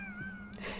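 A person's voice imitates a cat with one short, drawn meow that rises and falls, clear and close, during a casual livestream.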